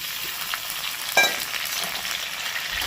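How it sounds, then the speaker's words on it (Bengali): Garlic and ginger paste frying with chopped tomato in a pan for a fish roe kofta curry, a steady close sizzle with one brief louder clink or stir midway and no talking. "এটা আগে কষাবো, আর এর সাথে দিয়ে দিচ্ছি টমেটো কুচি"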